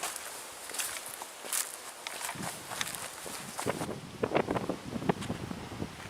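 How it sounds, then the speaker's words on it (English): Wind gusts buffet the microphone on a cliffside trail at Pictured Rocks, Michigan, with rustling blasts and footsteps crunching underneath. "it's a little windy right here"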